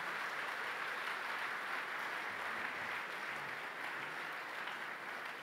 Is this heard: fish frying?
no